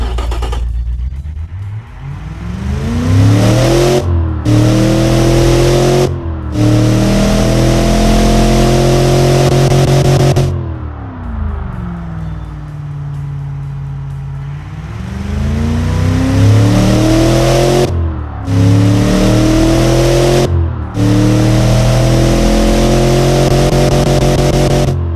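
Ford/Lincoln 460 cubic-inch V8 big-block revving up and down in repeated bursts, loud and close, with sharp throttle blips between longer climbing and falling pulls.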